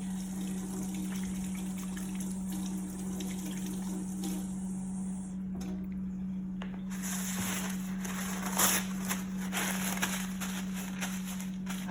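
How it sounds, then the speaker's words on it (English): Tap water runs steadily into a sink during handwashing, a low continuous gush with a faint hum beneath, joined by louder splashes near the end. "first we'll wash our hands before we do anything"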